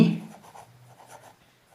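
Short burst of chalk or marker writing on a board during an English lesson, a few quiet scratchy strokes that fade out quickly in an otherwise quiet room.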